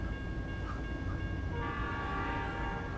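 A train rolls past in American Truck Simulator, heard as a steady low rumble of rail wagons with faint sustained horn-like tones above it, continuous and moderately close.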